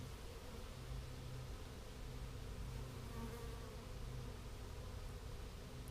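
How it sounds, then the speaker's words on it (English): A huge swarm of bees buzzes steadily and densely outdoors, a continuous close drone that holds at an even level throughout with no voices. "A couple of bees landing on my arm there."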